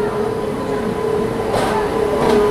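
Patna SMBT Bengaluru Humsafar Express, hauled by a WAP7 locomotive, rolling into platform 4 at an Indian station: a steady loud rail rumble with a sustained hum and faint clatter, close by.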